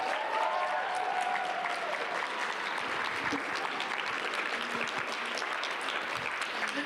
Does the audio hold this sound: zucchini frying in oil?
no